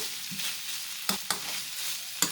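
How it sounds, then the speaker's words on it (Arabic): Cauliflower is stirred into minced meat frying in a pan with tomato sauce: a soft steady sizzle, broken by three sharp spoon scrapes against the pan, close by with no voices. "وهحطهم على اللحمه وهقلبهم كده زي ما انت شايفه"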